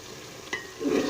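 Whole black peppercorns, cumin, red chilli, turmeric and garam masala fry in oil in a pan for chana dal. A steady sizzle rises into a louder crackle near the end.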